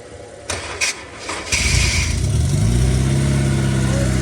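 A Honda S2K starts in the cold: a few loud starter-motor cranks, then the engine catches and settles into a steady, close idle.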